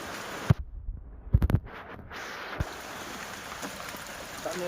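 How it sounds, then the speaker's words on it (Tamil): Heavy rain pouring down in a village, with water running into a shop, heard as a steady broadband wash with a few sharp knocks and splashes near the start. "நல்லா மழை பெய்யுது guys, மழை பெய்யுது."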